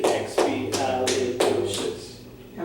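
Hands clap to count the syllables of a word, about six sharp claps in an uneven rhythm, close and clear with a faint voice in the background.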